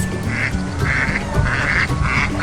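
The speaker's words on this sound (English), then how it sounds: "ducks" Farm ducks quacking in a repeated, evenly spaced rhythm, loud and close, over a noisy mix of other farmyard birds.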